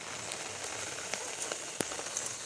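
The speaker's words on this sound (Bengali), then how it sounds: "এই যে বাইরে বৃষ্টি হচ্ছে" Rain falls outside on an all-day rainy day, a steady soft patter with scattered sharper drips landing close by.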